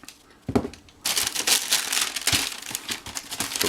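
Tissue paper crinkles and rustles inside a Nike SB Dunk shoebox during unboxing, close and busy with a short crackle, then a continuous stretch of handling noise, without talk.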